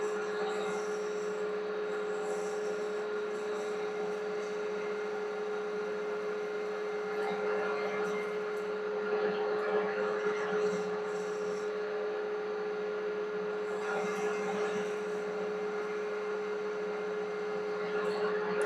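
A metal lathe facing off the end of a custom metal spacer gives a steady, even motor hum with a continuous cutting hiss layered on top. The sound stays close and unbroken throughout, with no voices.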